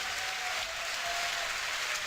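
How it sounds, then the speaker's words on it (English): Steady crowd cheering and applause from a Dota 2 tournament audience at The International 3, a dense continuous roar filling the whole moment with no break. "The crowd excited to see the MKB pick up"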